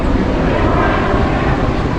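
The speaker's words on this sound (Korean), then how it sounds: "헬기가 왜 날를까? 뭔 일일까 헬기?" A helicopter flies over the Lauterbrunnen valley in Switzerland, giving a steady, broad droning roar that stays constant and moderately loud, with no speech over it.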